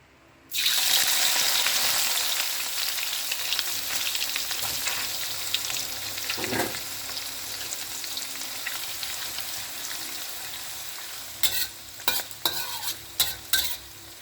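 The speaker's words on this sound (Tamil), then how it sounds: "முதல்ல அந்த நெத்திலி பொடிலாம் பொரிச்சிக்கலாம்." Steady loud sizzling of anchovy powder frying in a pan, continuous throughout, with a few sharper crackles and clatters near the end.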